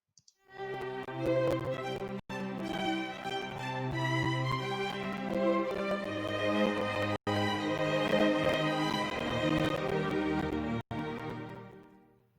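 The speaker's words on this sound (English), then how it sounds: "It's a string quartet, and it kind of has that happy melody going out throughout." A string quartet plays the bright, cheerful main theme of Peter and the Wolf in steady rhythm, full ensemble sound with brief gaps, no voices.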